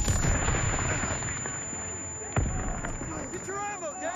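Call of Duty: WWII battle: a sharp, loud blast from a thrown grenade amid scattered gunfire, with voices shouting in the mix.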